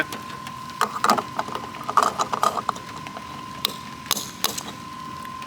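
A wrench tightens a bolt to torque spec during an oil change: a series of close metallic clicks and ratcheting bursts in short irregular clusters over a faint steady hum.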